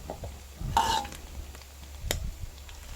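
Small climbing perch frying crisp in hot oil, a soft sizzle with a brief louder burst of spattering and a few faint clinks, fairly quiet and without talk.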